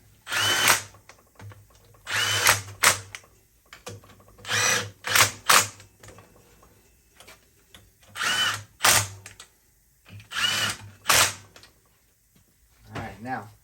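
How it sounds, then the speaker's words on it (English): An impact wrench drives bolts on a Yamaha YXZ 1000 during a clutch install, with repeated loud bursts of whirring hammering, each lasting about half a second, separated by short pauses; a voice talks quietly in between. "So grab your impact."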